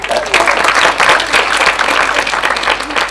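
An audience applauding at the Dakar Literary Festival, a dense, steady wash of many hands clapping close by for about three seconds.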